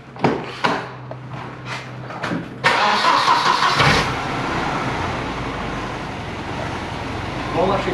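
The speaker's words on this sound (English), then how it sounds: "I'm just going to start it up and turn the steering just on a lock" A car engine cranks and catches with a loud start, then settles into a steady idle up close, with a few brief clunks and background noise beforehand.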